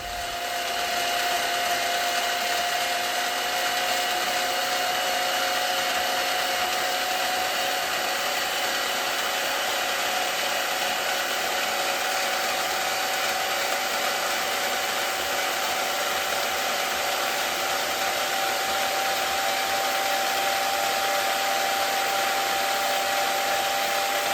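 A mini bandsaw cuts 1/8 inch flat steel stock with a steady, continuous whir and faint high ringing, constant and unbroken throughout with no talk.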